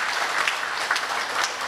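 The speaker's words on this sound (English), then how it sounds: "let us have a round of applause for Mr." A seated audience at a public education forum on the CCJ and Privy Council offers a short, steady round of applause for a speaker, continuous clapping with no voices over it.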